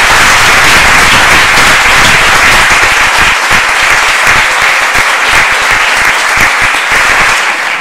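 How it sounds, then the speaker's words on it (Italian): A crowd at an Italian book talk applauds the author, loud sustained clapping close and full from start to finish, fading only slightly at the very end, with no speech. "Direi che un applauso glielo facciamo."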